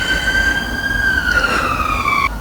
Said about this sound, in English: The sirens now make a debut